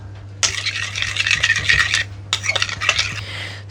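Skyr being mixed in a bowl, with bright clinking and scraping of a utensil against the bowl in two bursts separated by a brief pause, close and fairly loud.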